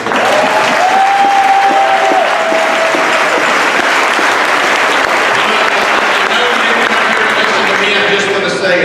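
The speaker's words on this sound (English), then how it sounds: "let's give them a little round of applause" Loud, sustained applause from a large crowd at a high school football state championship celebration, dense clapping with some voices and whistles mixed in throughout.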